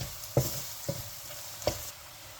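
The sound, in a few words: sautéing spices with meat masala and turmeric for beef roast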